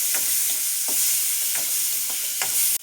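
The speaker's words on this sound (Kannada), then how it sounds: "ಟೊಮೊಟೊನ ಅದಕ್ಕೆ ಹಾಕ್ಬಿಡಿ. ಹಾಕಿಟ್ಟಿದ್ದೀನಿ. ಒಂದು 3 ಸೆಕೆಂಡು ಚೆನ್ನಾಗಿ ಫ್ರೈ ಮಾಡ್ಕೊಳ್ಳಿ." Tomato, onion and curry leaves fry and get stirred in a pan: a steady sizzle broken by rhythmic spatula scrapes about every half second, then an abrupt cutoff.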